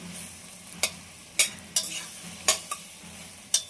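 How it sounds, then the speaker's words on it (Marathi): Half a kilo of tomatoes and a small chilli sautéing in butter in a pan. Irregular spatula scrapes and clinks sound over a soft, steady sizzle, with no talking. "छान आपण बटरमध्ये परतून घेतोय"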